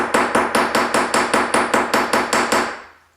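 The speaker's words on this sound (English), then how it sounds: "Kind of hammer my edges here, just to give it a nice flare." About a dozen sharp metallic planishing hammer blows strike a metal bracelet in a quick, steady rhythm, close and loud, with the ringing fading after the last strike.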